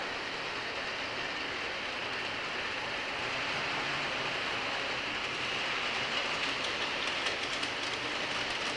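A model railway locomotive runs along its track beside a layout bridge, giving a steady, continuous rolling rumble and hiss with faint rhythmic clicking that builds slightly toward the end, with no one talking.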